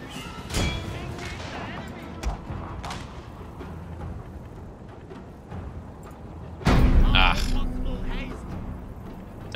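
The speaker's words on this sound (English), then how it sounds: "Looks like our cannons have found a new target." Cannons fire in a Total War Shogun 2 battle, sporadic thumps and cracks scattered beneath continuous talking, with one louder burst near the end amid the game's battle noise.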